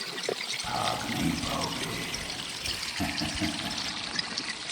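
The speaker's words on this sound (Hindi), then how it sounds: "इस कमरे में पानी भर रहा है।" Water pours and gushes into a room as a story sound effect, a steady rushing splash with trickling detail, moderately loud and continuous without speech.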